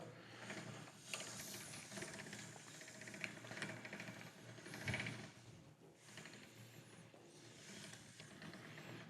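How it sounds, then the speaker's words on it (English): A hand-cranked pasta machine rolls fettuccine dough with a quiet, continuous mechanical whir and clicking of gears and rollers, faint and close, with a few small knocks. "And now it's time to use our machine."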